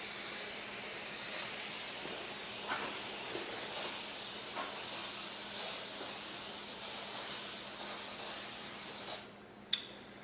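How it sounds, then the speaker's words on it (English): Poly-Ease 2300 silicone release agent hisses from an aerosol can in a long continuous spray over freshly poured rubber, ending abruptly after about nine seconds with a short final burst. "This is actually a silicone release agent. It's called Poly-Ease 2300. If you spray it on the back of the rubber while it's still just now poured,"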